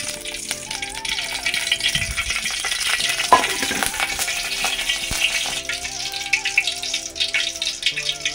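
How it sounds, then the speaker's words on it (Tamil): Ivy gourd stir-fry cooking in sesame oil sizzles steadily in a home kitchen pan, with a continuous frying hiss and some stirring scrapes and rattles throughout, fairly loud and close, with no talking. "அந்த எண்ணெயில் தான் நான் வந்து இப்போ வந்து பொரியல் வந்து பண்ண போகிறேன்"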